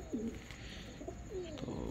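Pigeons in a breeder setup give soft, low coos, a couple of faint rolling calls against quiet background hiss.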